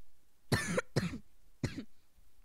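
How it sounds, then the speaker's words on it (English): Three harsh coughs from one person close up, two in quick succession and a third after a short pause. "I hate it when I keep coughing in my videos."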